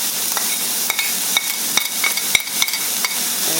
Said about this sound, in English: put your oil in your pan, not much. Swish it around a little bit. Throw your onions in first